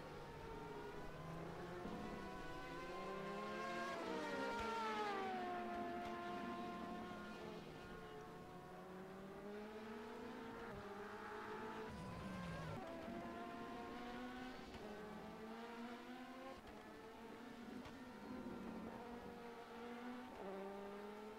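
Race car engines roar and howl through gear changes in rFactor 2 sports cars at Interlagos, several cars close together with pitch sweeping up and down continuously and a brief tire squeal, loud and steady with no talk.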